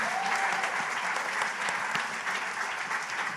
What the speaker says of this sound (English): please give these two a round of applause for their work today